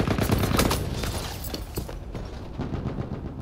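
Rapid automatic fire from an MP18 submachine gun in the first-person shooter Battlefield 1, loud, dense bursts running almost continuously, close up, with battlefield noise underneath and a brief easing near the middle.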